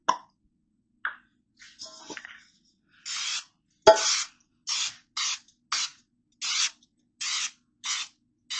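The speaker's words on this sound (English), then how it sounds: "I'm just going to use butter cooking spray." Butter cooking spray hisses into a pot in a run of short, quick bursts, each about half a second, after a few soft clicks and taps of the can, close and clear with no talking.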